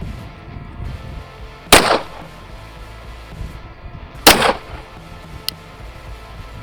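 Two sharp, loud pistol shots ring out roughly two and a half seconds apart during an ammunition test firing 124 grain rounds through a 6-inch barrel on a Raider 365, followed by a faint metallic click over quiet outdoor background.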